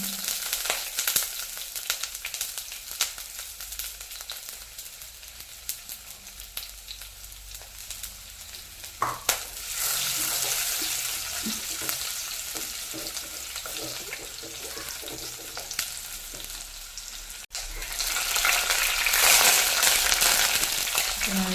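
Steady crackling sizzle of food frying in oil in a pan, continuous and close, growing louder and brighter toward the end with a running-water hiss.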